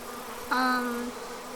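A honeybee swarm gathered on the lid of a hive tote gives off a faint background hum, then a single bee buzzes close by for about half a second in a clear droning tone.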